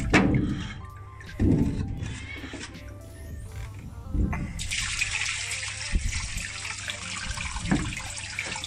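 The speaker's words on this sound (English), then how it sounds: "It's quite hard to pour 10 litres of water into a aquarium with one hand." About 10 litres of water poured into an aquarium splashes and gushes steadily, building to a sustained bright pour that fills out over the second half, with a few thuds and sloshes along the way.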